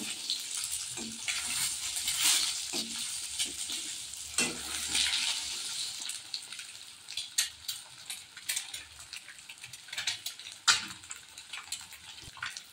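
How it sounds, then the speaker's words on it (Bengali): Eggs frying in a pan with a moderate sizzle and sharp crackles and pops, which grow more sporadic toward the end. No one speaks. "ডিম বেশিক্ষণ লাগে না সময় ভাজতে, ভাজা হয়ে গেছে আমার"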